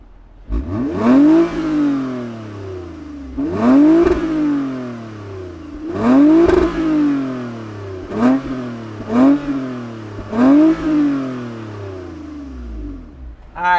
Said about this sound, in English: let's fire up this Avalon and see what that catback exhaust sounds like